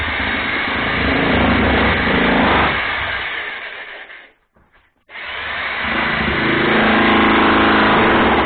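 A 50-joule jackhammer chases walls in a stone house during a kitchen remodel, a loud, close, continuous hammering roar that drops out briefly to near silence, then starts up again at full strength.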